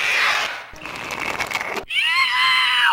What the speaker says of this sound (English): What was that scream?